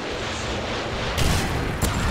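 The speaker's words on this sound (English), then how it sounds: "Friendly Predator missile inbound." Predator missile strike in Call of Duty: MW3, loud continuous blast noise with a sharp impact swell just past the midpoint and another brief burst near the end.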